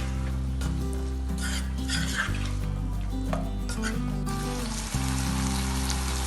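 Chopped cucumber, capsicum and cabbage sauté in a pan for chicken shawarma, a soft sizzle with intermittent stirring scrapes over a steady background music bed, close and moderate in level.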